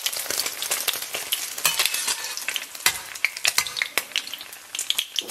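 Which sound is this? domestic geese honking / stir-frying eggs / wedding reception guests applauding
stir-frying eggs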